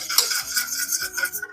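A banana pudding mixture is whisked in a pot, wire tines scraping and clinking against the metal in quick, steady strokes, close and fairly loud with no talking.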